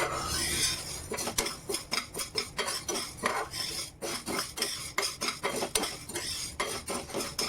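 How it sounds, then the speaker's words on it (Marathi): A spoon scrapes and stirs a mixture repeatedly against a hot griddle over a low gas flame in a quick, steady rhythm, close up, with no talking. "स्लो गॅसवर आपल्याला हे असं ढवळून घ्यायचं"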